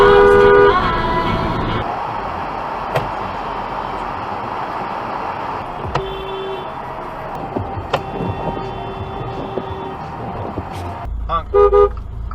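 A car horn sounds in several short toots, the loudest at the start, then sporadic honks over steady traffic noise and a low engine rumble, with a burst of quick beeps near the end.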